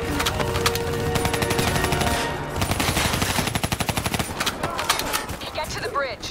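Call of Duty Black Ops 3 combat: dense bursts of automatic gunfire rattling in rapid rhythm, sharp individual shots and impacts, loud and close, with game music and voices running underneath.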